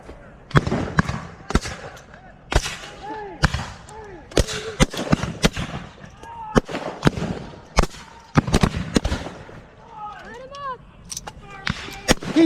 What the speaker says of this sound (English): Fire at will, commence firing.